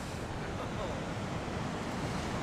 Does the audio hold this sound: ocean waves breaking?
yes